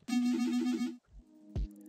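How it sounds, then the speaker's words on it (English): Ecstasy ear candy sample from a shift texture kit, pitched down an octave: a soft, shimmering synth tone pulses rapidly for about a second, then after a brief gap a low hit with a thin tonal tail follows, quiet and alone. "This is the ecstasy ear candy"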